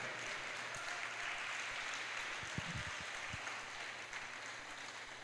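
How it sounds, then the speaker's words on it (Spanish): A church congregation claps loudly and steadily, a dense wash of applause with a few sharper claps standing out midway, and no clear speech over it. "Dale un fuerte aplauso al Rey."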